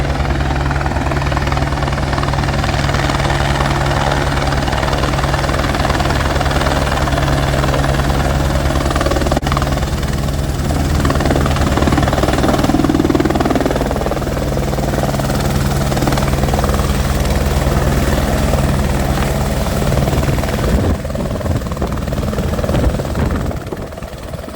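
Helicopter arriving for a rescue pickup high on Mera Peak in the Himalaya, a loud steady rotor and engine drone throughout, close and continuous with wind-like noise and no speech.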